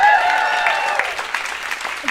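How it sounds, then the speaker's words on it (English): An audience at a comedy contest claps in a burst of applause that is loud at first and then thins out, with a voice coming in as it fades. "I love that saying I'm engaged gets a clap"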